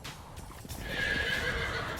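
A horse galloping toward a bridge by an old church, a loud whinny rising clearly over quick hoofbeats, close and vivid with no talking.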